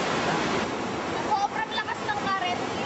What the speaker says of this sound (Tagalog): Tatawid na kami ng ilog.